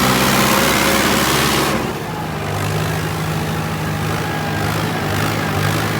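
A tractor with a 655 CRDI engine converted to an inline pump runs loud and close, a heavy revving roar that eases to a steady lower drone partway through.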